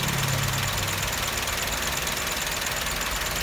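A Toyota Etios Liva car engine runs at a steady idle, a close, even mechanical hum with slight knocking vibration and no talking.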